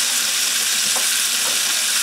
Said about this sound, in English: Our plan with this is to let these sear on all sides for just a couple minutes.